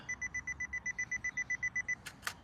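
A camera self-timer emits about fourteen evenly spaced, high electronic beeps in a steady rhythm, then falls silent and gives way to two quick sharp shutter clicks, all close and clear with no talk.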